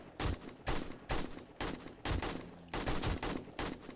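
Bursts of automatic gunfire in the zombie-survival video game 7 Days to Die come in a rhythmic series of about eight short volleys, each a rapid rattle of shots separated by brief gaps, fairly faint overall.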